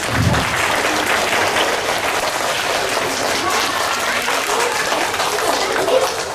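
Children at a school health assembly applaud together, a dense wash of clapping that holds steady for several seconds, with a faint murmur of voices beneath it.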